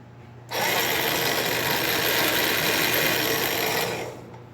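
An electric anchor winch motor on a trailer starts up, whirs steadily and evenly for about three and a half seconds, then winds down, with no talking.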